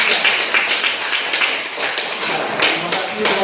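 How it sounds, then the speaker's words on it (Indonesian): Classroom applause for a student group presenting in a problem-based learning lesson, a dense continuous burst of many hands clapping close by for a few seconds. "Tepuk tangan dulu Kak untuk kelompok 3."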